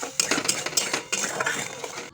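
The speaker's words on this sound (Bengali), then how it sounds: "মশলাটা খুব ভালো করে কষিয়ে নেব" A metal spoon scrapes and clinks against a pan while masala is stirred and fried for a home vegetarian thali, making quick close scraping and tapping sounds in irregular bursts, with no voices.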